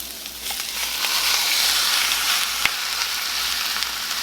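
Cube steak sizzles loudly in a skillet as a continuous bright hiss. A single sharp tap or scrape lands about two-thirds of the way through.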